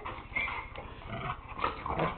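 A dog growls and snuffles up close, low rumbling grunts mixed with chewing noises, steady and continuous with no talk.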